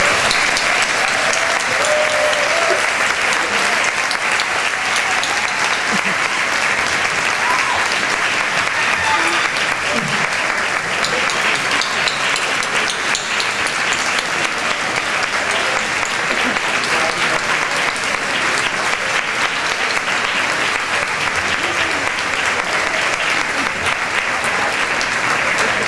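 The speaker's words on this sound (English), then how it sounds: "Could we all please give a huge round of applause for Andre?" Long, steady applause from a large audience at an awards event honoring a Lifetime Achievement Award recipient, dense continuous clapping that holds at an even level for nearly half a minute without talk.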